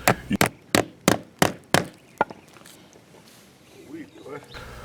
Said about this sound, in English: Use a hammer to drive the spike down to ground level.